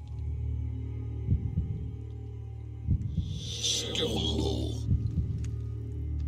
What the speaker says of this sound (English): Heartbeat's still going up.